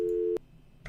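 A telephone busy signal in the video game Deltarune: one steady low electronic tone, close and clear, cutting off sharply after a third of a second, followed by a brief bump of noise.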